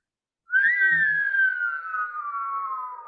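A man whistles a single long, loud tone that rises briefly and then slowly slides downward, held steadily for nearly three seconds after a quiet start, imitating his father's habit of whistling to relieve stress.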